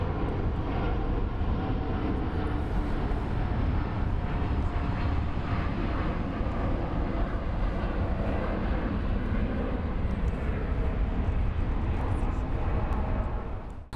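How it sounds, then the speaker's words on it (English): Airbus A320-214 jet at Frankfurt Main Airport, a loud, steady broadband engine roar that holds close and unbroken for the whole stretch, with a voice talking faintly underneath. "Seems like we have a Airbus A320-214 headed to Skopje."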